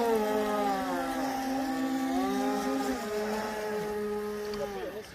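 A Deerc YK080 RC boat runs at low speed on cold water, its small motor giving a steady whine that shifts pitch a few times as it moves, with wind noise around it.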